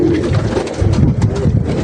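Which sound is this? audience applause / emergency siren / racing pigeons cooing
racing pigeons cooing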